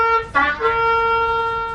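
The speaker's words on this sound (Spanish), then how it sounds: "Shevarim son tres notas cortas" Shofar shevarim: brief, broken horn notes with a trumpet-like timbre, played loud and close, the breaks audible between sustained tones of the ram's horn.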